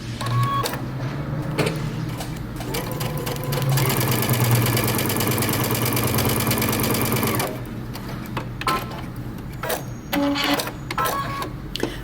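Stay stitching on the fronts of a shirt dress with a sewing machine: a loud, even mechanical hum runs for several seconds in the middle, set among lighter clicks and handling taps before and after.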